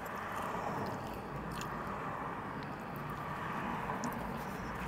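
Bites and chewing on a well-toasted, warm torta sandwich from a taqueria, a steady close-up crunching and mastication running continuously without talk.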